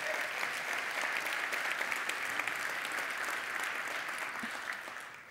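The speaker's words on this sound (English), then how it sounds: "yeah, you can clap" The audience at the 2023 Endeavor Gala gives sustained applause, a dense, even roar of many clapping hands from a large room that holds strong, then fades slightly near the end.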